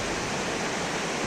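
Fast-flowing river water rushing steadily in a dense, continuous roar, close and loud throughout with no voices.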